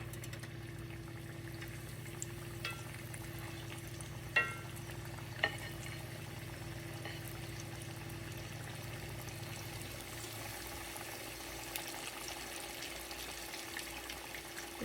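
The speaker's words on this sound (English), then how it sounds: "So I've got my floured cube steak. We're gonna go in the skillet." Floured deer cube steak frying in a skillet, a faint, steady sizzle beneath a constant low hum, with a couple of soft knocks and clinks along the way.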